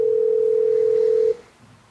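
A single steady electronic phone tone, loud and close, holding for just over a second before cutting off abruptly into quiet.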